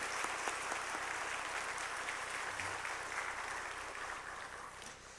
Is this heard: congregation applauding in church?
yes